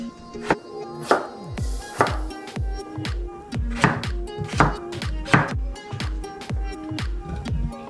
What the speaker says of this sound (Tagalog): We're going to slice itong sibuyas at patatas.